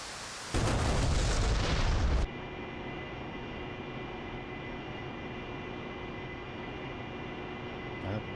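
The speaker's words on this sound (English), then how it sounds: "I see some explosion." Maverick missile explosion in the DCS Harrier combat flight simulator: a sudden loud burst of roaring, crackling blast noise lasting under two seconds, then dropping to a steady cockpit engine drone with faint tonal hums.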